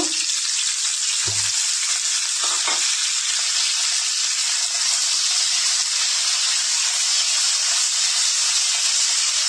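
Potatoes and cauliflower fry in hot oil in a pan, giving a loud, steady sizzle and hiss that runs the whole way through, with a few low knocks near the start.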